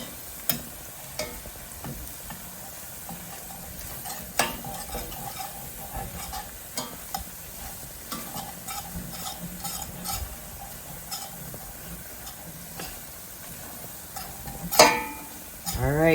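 Salisbury steak mixture stirred in a pan as it cooks down, with a steady low sizzle and soft scraping strokes, a few sharper utensil knocks scattered through and a louder clatter near the end.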